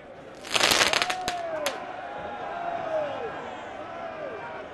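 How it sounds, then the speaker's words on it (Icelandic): Fireworks fired at police during street protests in France: a burst of sharp crackling bangs, then whistling rockets rising and falling, at moderate distance over a background of crowd noise. "Meðal annars var flugeldum skotið að lögreglu."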